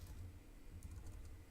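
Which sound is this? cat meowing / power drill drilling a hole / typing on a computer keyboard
typing on a computer keyboard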